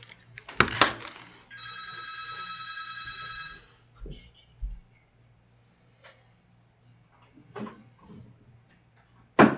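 A telephone rings with a sustained electronic trill lasting about two seconds, loud and close, surrounded by a few handling knocks and clicks in a quiet room.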